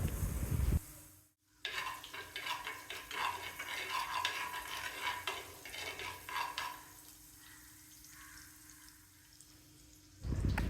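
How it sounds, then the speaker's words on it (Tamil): Cinnamon stick and fennel seeds sizzle in hot coconut oil, tempering for a Chettinad-style tuna fish curry; a steady frying hiss with some stirring runs nearly the whole time, broken by a short pause near the start. "தேங்காய் எண்ணெய் சேர்த்து தாளிக்க போகிறேன்"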